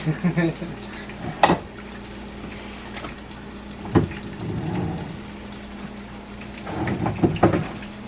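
Chicken breaded in crushed potato chips fries in a pan with a low, steady sizzle, punctuated by a few sharp clatters and stirring knocks, while someone talks intermittently over it.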